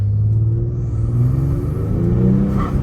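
A 2022 Genesis G70 3.3L twin-turbo engine with cold air intakes rumbles and rises in pitch as it accelerates, a deep steady roar close by with a faint whooshing intake.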